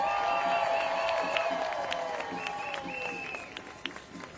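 A crowd at a San Francisco protest rally against immigration policy bursts into sustained applause, cheers and whoops. The noise is loud at first, then gradually tapers, with whistles rising above the clapping.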